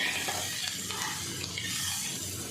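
Onions frying in a small amount of oil in a pan for a taro curry, giving a steady close sizzle with light stirring scrapes running throughout, alone without talk.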